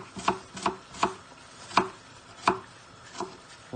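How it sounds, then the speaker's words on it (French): A kitchen knife makes lengthwise incisions into a halved onion on a cutting board while preparing a leek tart, giving six crisp, evenly spaced chopping taps over a few seconds with no talk. "Ensuite on fait des incisions du cul jusqu'à la tête."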